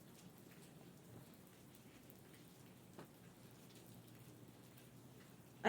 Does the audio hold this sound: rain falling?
yes